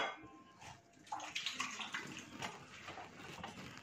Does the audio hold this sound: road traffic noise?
no